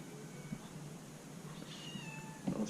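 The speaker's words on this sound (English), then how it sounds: "there's a cat meowing at me" A cat meows a few times, faint and somewhat distant, with short calls spaced through a quiet background.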